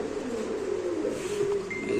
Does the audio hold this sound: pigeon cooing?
yes